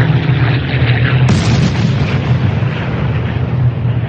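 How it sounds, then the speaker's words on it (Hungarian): A loud, sustained explosion rumbles through a sound effect in a Hungarian audiobook, with a sharper blast surging in partway through. Dense and roaring throughout, heard alone without narration. "Dörrenés és felcsapó lángnyelv."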